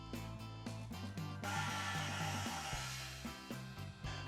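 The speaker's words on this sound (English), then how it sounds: "Filling this 30 by 10 inch Maxxis Carnivore took 4 CO2 cartridges to bring it up to 7 psi" A CO2 cartridge hisses loudly as it inflates a 30 by 10 inch Maxxis Carnivore off-road tire, a sustained rushing blast lasting a few seconds over a pulsing background.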